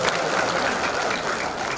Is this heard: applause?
yes